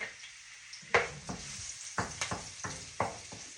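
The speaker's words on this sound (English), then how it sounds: "the first thing I'm going to add are the onions. That's exactly what I want to hear." Onions sizzling in a hot pan for chicken fried rice, a steady crackling hiss broken by several sharp scraping stirs and clinks, close and moderately loud with no talking.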